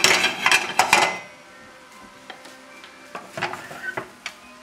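Basmati rice with shrimp being stirred in a pot, a cluster of close clattering scrapes at the start, then quieter scattered knocks and scrapes of the spoon against the pot.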